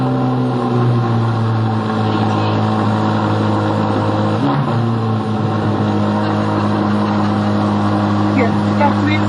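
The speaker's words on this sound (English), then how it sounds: "we have this guy out here revving cars." Chevrolet Corvette engine idling and being revved outdoors, a loud deep rumble with a brief rev swell midway, while people talk nearby.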